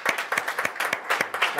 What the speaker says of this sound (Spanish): Un aplauso para el diputado Guillermo Tellier.